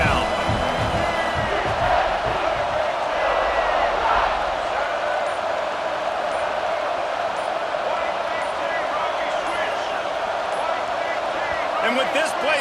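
A loud stadium crowd roars continuously in the College Football 26 video game, a dense sustained wall of cheering with occasional swells, as an announcer talks over it.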